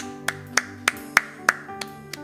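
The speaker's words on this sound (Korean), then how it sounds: "주님께 영광의 박수 올려드리겠습니다." Slow, sparse claps from a church congregation at a Sunday worship service, about eight distinct sharp hits spaced evenly over a faint sustained tonal background.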